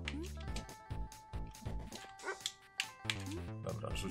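A dog barks in the Undercat video game demo, short yipping bursts recurring in quick rhythm over tonal game music, with a voice speaking at times.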